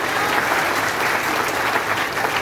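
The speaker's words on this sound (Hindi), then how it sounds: "एक बार ताली बजा के स्वागत कीजिए।" An audience at a BJP party gathering in India applauds to welcome someone, a steady, dense burst of clapping filling the whole stretch without pause.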